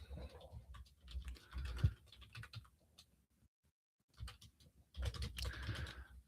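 Close, quiet typing on a computer keyboard as text is entered into a box, a patter of light key clicks in two bursts with a short silent gap between them.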